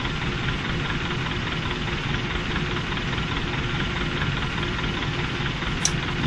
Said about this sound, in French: les 4 moteurs sont réallumés